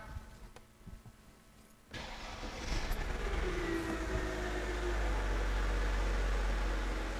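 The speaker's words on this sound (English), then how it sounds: "So I'm going to start the car, and we'll see what happens." A car engine turns over during a diagnostic scan-tool check, catching after about two seconds and settling into a steady, droning idle that continues without any talk.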